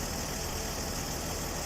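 A modded vehicle engine idles in Farming Simulator 22, a steady, even drone with low rumble and constant loudness, heard alone without talk.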